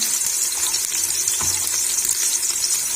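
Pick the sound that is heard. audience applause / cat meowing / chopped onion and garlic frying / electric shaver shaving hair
chopped onion and garlic frying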